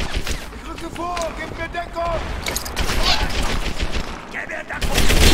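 Rapid bursts of rifle and machine gun fire in Medal of Honor: Airborne, loud and close, layered with distant shots and explosions, while someone talks over the battle.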